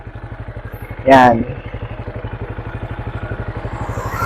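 A Benelli Imperial 400cc motorcycle idles with a steady, close thumping pulse, briefly broken by a short clatter and a spoken word, then settles back into its even rhythm.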